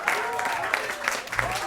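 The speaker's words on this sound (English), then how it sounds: "Let's give another round of applause to Maia." Brief applause from an audience at a spring celebration event, mixed with voices and a tonal background, with a few louder claps standing out.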